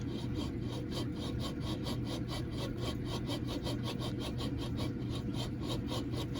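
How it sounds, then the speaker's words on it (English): Rough, worn bearing from a 5LM60 five-speed transmission out of a 1992 S10, turned by hand, giving a steady gritty rasping grind with rapid regular ticks, close and fairly quiet. "that has got to be the bearing noise this thing was making."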